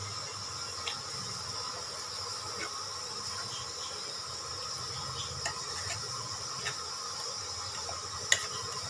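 Frying in oil in a kadai gives a steady low sizzle and hiss, with faint scrapes and light clinks of stirring now and then and one sharper knock near the end.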